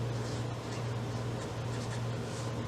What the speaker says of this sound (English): So you can go ahead and write your instructions on here.